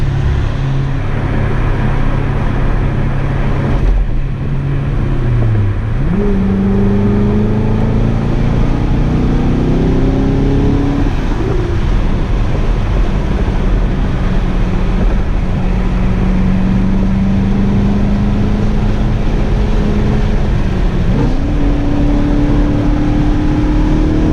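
Grand Sport Corvette with an AWE Touring exhaust and X-pipe, a loud close V8 drone rising and falling through several gear changes while driving, steady throughout with no talk.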